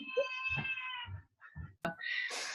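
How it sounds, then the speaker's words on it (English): A house cat meows several times up close, with drawn-out, wavering cries separated by short pauses and a brief sharp knock near the end. "I have to let my cat out."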